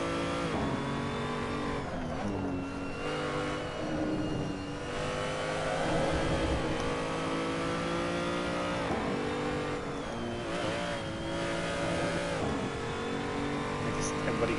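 A car engine revs continuously in a racing video game, the pitch rising and falling with gear changes and throttle, while someone talks over it.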